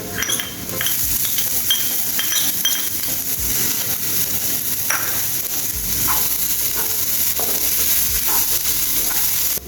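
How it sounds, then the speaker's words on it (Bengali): Ginger, garlic and chopped green chilli fry in a hot pan, a steady close sizzle running throughout with stirring and occasional light clinks of a utensil against the pan, no voices. "এবার আদা রসুন যেটা ছিল সেটা দিয়ে দেব কাঁচা লঙ্কা কুচিটা দিয়ে দেবো"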